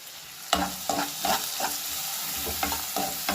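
Food frying in a pan while being stirred, with a steady sizzle broken by about seven distinct scraping strokes at an uneven rhythm, close and fairly loud, with no voices.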